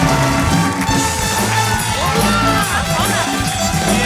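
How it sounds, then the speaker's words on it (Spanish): Studio audience on a Spanish-language late-night TV talk show cheering and applauding as two guests arrive, a steady loud crowd roar with whoops filling the whole stretch, background music underneath. "Un aplauso para Carly Craig y Gino Bento."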